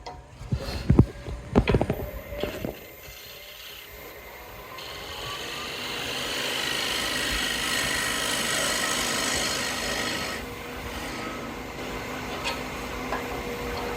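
Gouge scraping the bottom of a black locust bowl spinning on a wood lathe, a steady rasping hiss that swells and holds, with a few sharp knocks and bursts of contact at the start.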